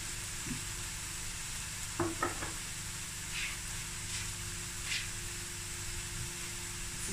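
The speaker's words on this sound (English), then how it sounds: "I'm going to add a little crushed chili." Crushed chili hits hot oil in a pan for a Cape Malay tomato ox trotter stew, a quiet steady sizzle and hiss with a few soft stirring clinks.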